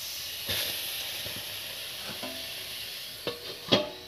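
Water goes into a pan of brinjal frying without oil, raising a soft, steady sizzle and hiss with a few sharp clinks and stirring knocks, fairly faint and close, with no talk.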